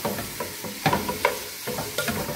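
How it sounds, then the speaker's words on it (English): Jamaican curry chicken searing in a pot while being stirred, steady sizzling and frying hiss with repeated scraping stir strokes, close and fairly loud, no voices. "Make sure you sear it, keep stirring it so it doesn't stick into the bottom of the pot."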